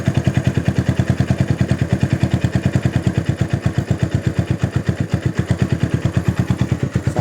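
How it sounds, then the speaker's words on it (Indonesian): A Honda CB100 motorcycle engine idles smoothly at steady low revs, close and loud, with an even, rapid thumping pulse and no other sounds. "Untuk suara mesin cakep ya, masih sangat layak pakai, halus, stasioner"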